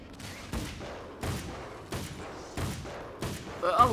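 Gunshots ring out in Alan Wake's American Nightmare, five single loud shots spaced about two-thirds of a second apart, each with a short echoing tail, and a voice briefly at the end.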